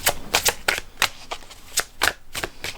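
Oracle cards are shuffled by hand in a run of quick, crisp riffles and slaps, close and fairly loud with an uneven rhythm and no talking.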